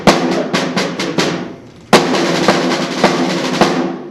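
A snare drum plays the paradiddle-diddle rudiment in quick accented bursts, a brief pause, then continues in a steady rhythmic run of strokes.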